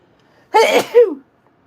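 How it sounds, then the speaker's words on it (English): A single close, sharp sneeze bursts out in two quick parts from a person during a painting livestream, with silence before and after. "Uh-oh, I'm going to sneeze."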